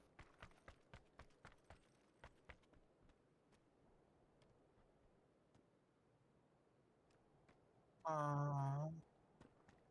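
Footsteps in the battle royale game PUBG on the Erangel map, a quick run of about eight faint rhythmic steps at the start, followed by quiet background and a short burst of a loud voice near the end.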